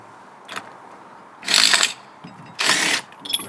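Short bursts from an impact gun loosening rear differential nuts on a Land Rover Freelander 2, two loud rattling blasts of about half a second each, with a few lighter metallic clicks and taps between them.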